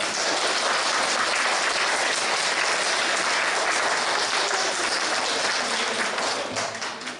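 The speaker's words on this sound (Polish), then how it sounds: "Olbrzymie brawo!" A school hall audience of pupils and adults claps long and steadily for a fourth-grade class performance at an Independence Day event, dense applause holding at an even level before tapering slightly at the end.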